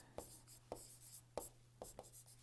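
Chalk or marker tapping and scratching on a board during an engineering lecture, about five short strokes in an irregular rhythm over a steady low hum in a quiet room.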